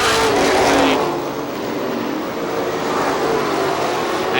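Race cars roar around the track at Star Speedway in New Hampshire, a loud sustained engine drone that swells and fades as cars pass, with a faint voice underneath.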